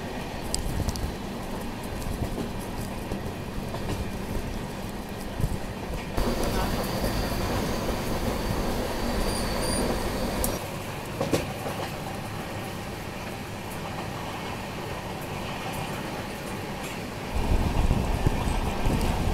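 Rajdhani Express running on the rails between New Delhi and Ranchi, a steady broadband rumble and rush of wind that holds throughout and swells louder near the end.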